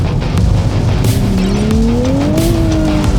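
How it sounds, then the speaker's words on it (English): A car engine revs hard and climbs in pitch while tires squeal and spin, loud and close. "Acceleration feels so strong. You can feel so much wheel spin."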